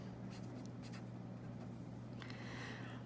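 Pen scratching out a chemical formula on paper during a chemistry nomenclature lesson, short bursts of strokes over a steady low electrical hum, close and quiet.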